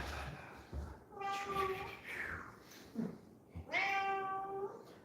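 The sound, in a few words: cat meowing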